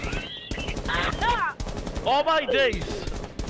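Rapid video game gunfire from a gun fired from the hip, loud bursts of shots mixed with an excited voice talking over them.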